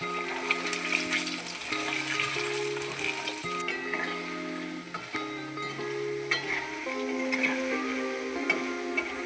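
Battered baby corn frying in hot oil for crispy chilli baby corn, a soft, continuous sizzle and bubbling heard at moderate distance under background music, with no talking.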